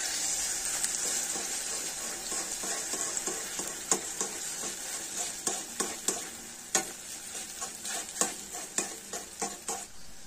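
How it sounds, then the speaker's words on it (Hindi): Egg sizzles in a hot kadai, a steady bright frying hiss with a utensil stirring and clinking against the pan in regular strokes, growing more pronounced as it goes on. "कढ़ाई गर्म हो चुका है, हम अभी डालेंगे एग। इसको हिलाएंगे हम।"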